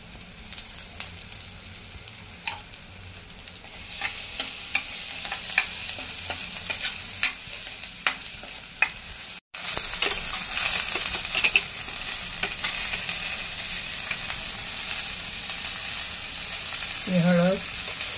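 Garlic, green chili and curry leaves sautéed in a pan for a traditional Konkan dish, giving a steady sizzle with frequent spoon clicks and scrapes, a brief break midway, and a short voice near the end.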